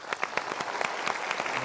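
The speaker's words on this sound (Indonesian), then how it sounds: "Kita berikan tepuk tangan dulu." Audience at a motivational talk giving applause, a brisk patter of many claps with distinct individual hand strikes standing out, fairly close and continuous through the short stretch.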